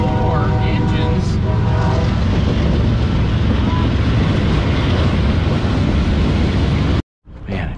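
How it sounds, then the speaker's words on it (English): A freight train with four engines passing near a scrapyard: a loud, continuous, broad roar with wind buffeting the microphone, holding steady before cutting off abruptly near the end. "There's a train. It's going kind of fast, it sounds like."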